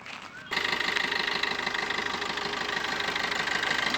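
A 2018 Maruti Suzuki Swift Dzire engine starts running after a brief quiet moment, then idles with a steady, even mechanical chatter close by, with no talk over it.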